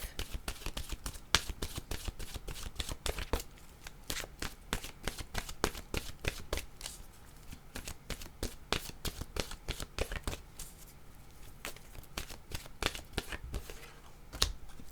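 A deck of oracle cards being shuffled by hand in a quiet room, a steady run of crisp riffling flicks and slaps, close and fairly quiet, with no talking.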